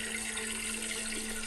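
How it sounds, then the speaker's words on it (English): Toilet flush sound effect, a steady loud rush of water with a constant low hum underneath, continuous throughout. "Can we get the toilet flush sound effect back in?"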